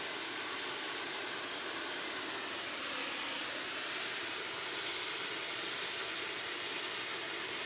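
Heavy rain pours steadily onto and into an inflatable tent, a dense, continuous hiss of water close by with no clear breaks or individual drips standing out.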